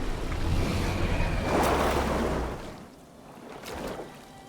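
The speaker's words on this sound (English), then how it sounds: "we have a nice boat ride through this river" Water washes steadily around a boat crossing a lake in the video game Nine Sols, a broad surging rush that swells, eases off and rises again, with no voices.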